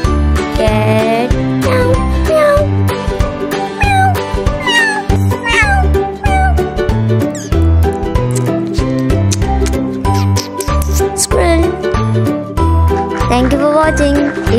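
Cat meowing repeatedly over a steady musical backing, from a kindergarten animal-name lesson; the meows come in a quick series of rising and falling calls, close and clear, with no speech over them.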